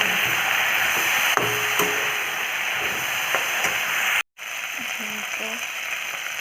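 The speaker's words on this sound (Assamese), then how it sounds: "এতিয়া দিম হালধি দি ধুনীয়াকৈ লৰাই দিম" Vegetables sizzle in a pan as turmeric is stirred in, a steady close frying hiss with a few clinks and scrapes of the spoon and one brief dropout partway through.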